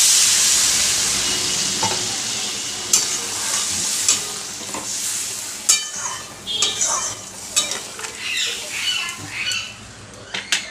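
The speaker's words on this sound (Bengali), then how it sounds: "এবার উষ্ণ গরম জল করে রেখেছিলাম, সেটা দিয়ে দিলাম।" Warm water hits a pan of sizzling, oil-separated spice masala for a tilapia curry with eggplant and potato, giving a loud hiss that fades into bubbling and spoon scrapes, close up and without speech.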